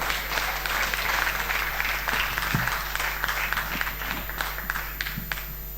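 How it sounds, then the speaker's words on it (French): Live-show audience clapping for a musician taking the stage, a full, even burst of applause with a few sharper claps and thumps standing out, steady across the whole stretch. "Sous vos applaudissements"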